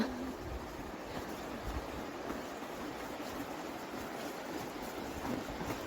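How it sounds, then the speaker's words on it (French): Steady rushing water of the Rivière du Nord flows throughout, a broad continuous wash of moderate level with no pauses and no voices. "Et voilà la rivière du Nord."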